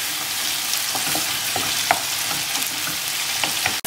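Tomatoes sautéing in a pan with salt, a continuous close sizzle and hiss with scattered light pops and occasional spoon scrapes, ending in a sharp clack.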